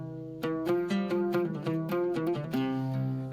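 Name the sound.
guitar playing Middle Eastern quarter tones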